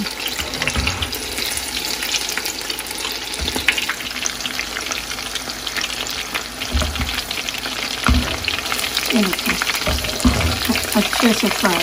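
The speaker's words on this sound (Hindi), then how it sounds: "अच्छे से फ्राई हो रहे हैं।" Chicken pakoras fry in hot oil over a medium flame, a steady loud sizzle throughout, broken by occasional stirring clatters and a few bubbling bursts.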